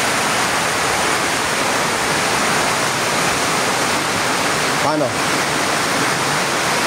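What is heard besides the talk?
floodwater flowing during a flood in Valenzuela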